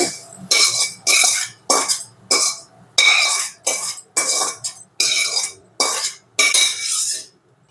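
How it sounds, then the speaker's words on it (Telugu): A spoon stirring fried onion tempering into a bowl of yogurt, about a dozen distinct scraping, clinking strokes in an even rhythm, close and fairly loud with near silence between them. "ఈ పోపు మిశ్రమాన్ని పెరుగులో వేసుకొని మిక్స్ చేసుకోవాలి"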